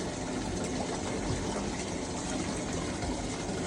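Water runs steadily from a tap, a continuous close rush and splash with no breaks and no voices over it.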